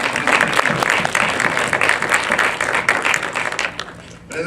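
An audience of mentors and mentees at a mentorship event breaks into applause, a full, dense roar of clapping that stays loud and steady before tapering slightly at the close.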